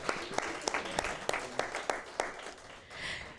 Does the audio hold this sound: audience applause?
yes